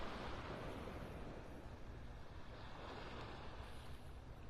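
Ocean surf on a beach in North Naples, Florida, a steady, broad wash of breaking waves mixed with wind buffeting the microphone, continuous and fairly distant with no voices.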